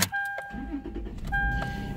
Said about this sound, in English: So when you turn on the car